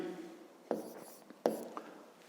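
Pen on paper in a quiet room during a fifth-grade maths exercise: soft scratchy strokes with a couple of sharper taps as marks are written, close and faint.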